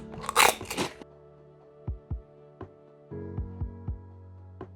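Crunchy pork rinds bitten and chewed close up, a burst of loud crackling followed by several sharp, sparse crunches spaced across quiet moments.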